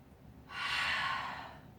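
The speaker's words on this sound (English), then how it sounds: "One more deep breath." A single deep, slow breath taken during a yoga session, a soft airy inhale swelling and fading over about a second, close and quiet with no talking.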